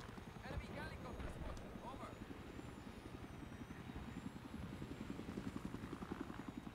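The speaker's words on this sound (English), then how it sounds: "Ooh, helicopter. Enemy helicopter" Enemy helicopter in a Battlefield 3 rush match, its rotor thumping steadily and fairly loud beneath constant battle noise and players talking.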